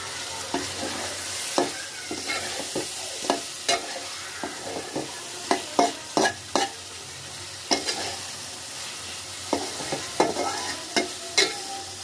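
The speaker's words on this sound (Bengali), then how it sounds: "এখন মাছটা দিয়ে দিলাম। মাছটা একটু ভালোভাবে কষাই নিব।" Tengra fish with salt and green chillies fries in a pan under a soft, steady sizzle, punctuated by frequent distinct clacks and scrapes of a spatula stirring it up close.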